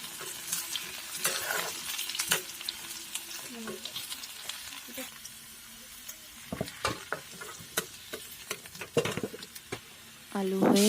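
Potato pieces fry in a covered pan, a soft sizzle broken by clattering flips and scrapes of a spatula, close and irregular, with a brief clank of the lid near the end.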